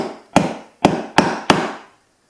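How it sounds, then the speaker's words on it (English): A shelf part is hammered into place for a wallet and key shelf, four sharp close wooden knocks in an uneven rhythm, each ringing briefly before the next, with no talk. "you're supposed to hammer this in first a little bit"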